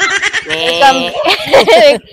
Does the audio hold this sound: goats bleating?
yes